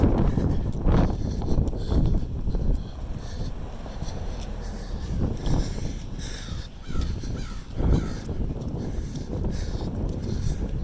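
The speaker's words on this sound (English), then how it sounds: "Yeah. There's the crows." Crows caw repeatedly outdoors, a run of loud, harsh calls at irregular intervals over steady wind-like background noise, fairly close by.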